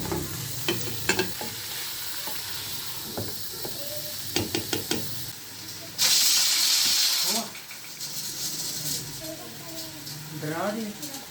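Tomatoes go into chicken cooking in a pot for Karachi-style haleem, with sizzling, scattered spoon knocks and stirring, a brief louder burst of frying hiss midway, and someone talking over parts of it.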